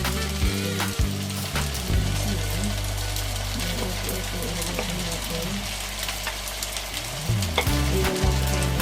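Oil sizzles and fries steadily in a pan while shrimp pasta is cooked, with stirring clatter and brief utensil knocks over a continuous loud hiss.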